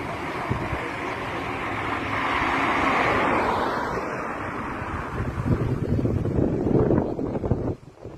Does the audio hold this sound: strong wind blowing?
yes